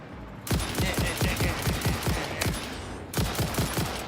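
A gun in the video game Satisfactory empties a full magazine in a rapid automatic burst of evenly spaced shots, close and loud, pausing briefly before another short burst.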